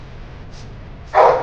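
A single dog gives one short, fairly loud bark near the end, after a stretch of low kennel noise at an animal shelter.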